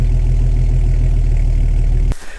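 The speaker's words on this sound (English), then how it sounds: "At idle, this motor still sounds absolutely amazing." Jeep XJ motor idling steadily and loud up close, a low even rumble for about two seconds before it cuts off abruptly into quiet.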